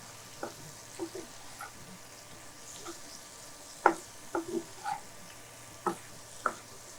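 Potatoes fry in coconut oil for a dry potato roast, heard as a faint background sizzle broken by several sharp utensil clinks and stirring scrapes at irregular intervals.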